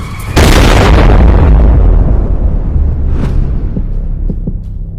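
A huge asteroid slams into Earth at enormous speed in a loud, deep explosion with a sudden booming onset, then a long rumbling decay with faint whooshing debris and a few distant pops.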